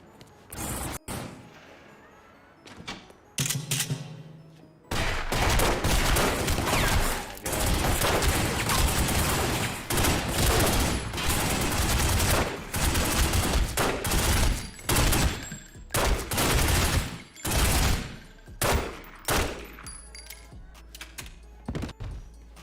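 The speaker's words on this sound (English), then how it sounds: "police are sitting out here shooting me" Police open fire in The Godfather video game, heavy bursts of rapid gunshots crashing in clusters, loud and dense, easing into separate volleys toward the end.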